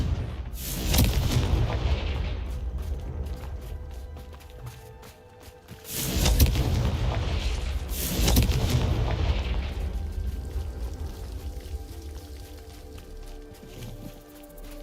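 Confringo spell explosions in a video game: heavy booms burst out near the start, then twice more close together around the middle, each one a loud blast that fades into a rumbling tail.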